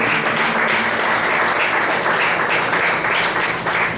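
Dense, steady applause from a large crowd fills the whole stretch, many hands clapping together without a break.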